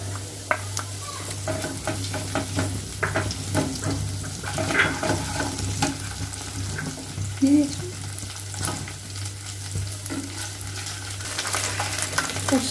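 Ginger paste sizzles in a hot pan on top of fried chopped onions, a continuous close frying hiss broken by repeated scraping and clinking strokes of a spoon stirring.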